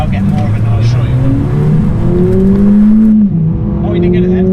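A five-door car's engine rises and falls through a downshift, the revs climbing then blipping up with a throaty exhaust note, close and loud, with people talking over it.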